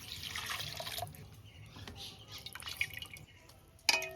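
Water drips and trickles in a kitchen after cut parshe fish is washed, with a few light splashes spread through and a sharper clatter near the end, fairly quiet and close.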